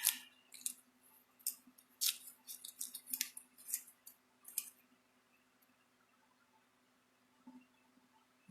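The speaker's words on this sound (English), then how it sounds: "Unwrap the tape." Tape is peeled and unwrapped from a bangle hoop after pressing in a ring press, giving a run of sharp, close crinkling snaps and pulls in quick bursts before fading to near silence, with one last small crackle.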